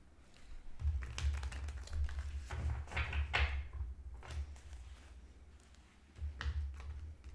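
Tarot cards being shuffled by hand, a run of soft, fairly quiet riffling and tapping bursts that come and go over several seconds.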